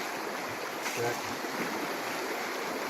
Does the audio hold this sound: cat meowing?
no